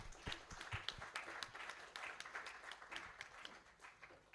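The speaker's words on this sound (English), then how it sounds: "I think they deserve another round of applause." Applause from an audience at an election integrity summit in Africa, a steady patter of many hands clapping at moderate volume for several seconds, fairly distant and even throughout.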